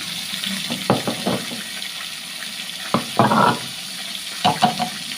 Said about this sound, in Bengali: তেলটা ভেজে ওর মধ্যে মশলা দিয়ে দেবো